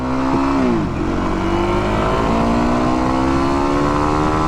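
A 2024 Kawasaki KLX300 motorcycle accelerates, its engine note dipping at a shift and then climbing steadily, loud and close, with no talking.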